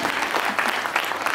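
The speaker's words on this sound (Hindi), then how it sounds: "जोरदार तालियां बजाइए।" Audience at a Hindi ghazal poetry recital clapping steadily and fairly close, a dense patter of hand claps with no voices over it.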